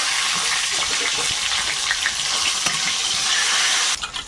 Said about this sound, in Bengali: আর এদিকে ভাত হয়ে গেছে লাউ ওই পাশে দেবো আমি তেলে একটু পাঁচ ফোড়ন তেজপাতা